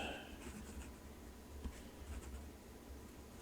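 Cursive handwriting with a Conklin Crescent Filler demonstrator fountain pen with an M nib, a faint, close scratching of the nib on paper with soft irregular strokes and light rustling.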